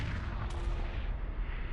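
Ships fire weapons in the video game Homeworld Remastered: a continuous low rumbling barrage of distant booms and thuds, steady and muffled throughout, with no voices.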